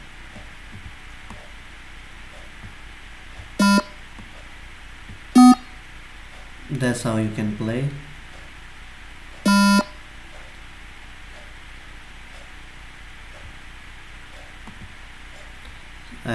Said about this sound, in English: The buzzer is also beeping,